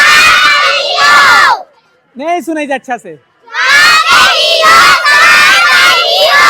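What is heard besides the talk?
village children shouting loudly before a film screening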